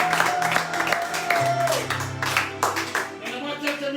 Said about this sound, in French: Est-ce qu'on peut symboliser ça par les acclamations?